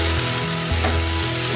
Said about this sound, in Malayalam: അപ്പം കടുക് വറുക്കാനുള്ള പരിപാടിയാണ്